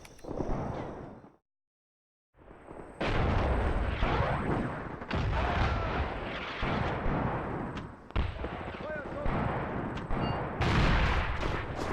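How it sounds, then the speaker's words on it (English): Mortar rounds explode in the war game Graviteam Mius: a long series of heavy booming blasts and rumbling detonations that overlap and roll on, loud and close, broken by one brief silent gap. "You can see those mortar rounds going off."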